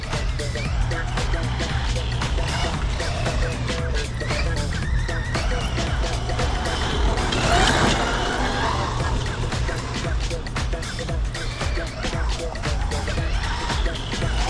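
An MJX 7303 Citroen C3 radio-controlled rally car with rally-style suspension runs off-road on a 4S LiPo battery, its steady, buzzy electric motor whine continuous and fairly close throughout, with someone speaking over it.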